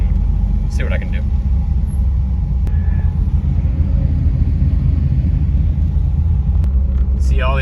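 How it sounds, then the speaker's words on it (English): A V8-swapped Camaro rolls over gravel, its engine a steady low rumble with constant crunching road noise throughout, loud and close, with brief voices faintly under it. "They're all stressed out because we're driving on gravel right now."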